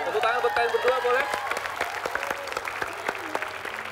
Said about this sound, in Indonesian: Tepuk tangan buat kalian berdua boleh?